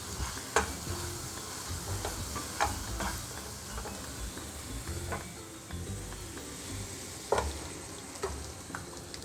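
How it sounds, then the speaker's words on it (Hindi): Hot oil sizzles and crackles as thick cooked dal is poured into the tempering and stirred, with occasional soft clinks from a utensil. "चलिए इसमें हम दाल जो बनाए हैं वो डालेंगे।"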